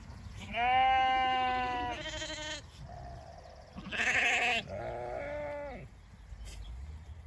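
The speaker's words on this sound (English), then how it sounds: "That's the rams you hear to my left there." Rams in a farm sheep flock bleat loudly nearby, with several drawn-out, wavering calls in succession and short pauses between them.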